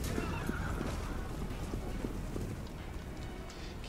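A horse in a video game, Total War: Warhammer II, neighs amid clip-clopping hooves and a busy background, fairly loud and close, with a short final knock.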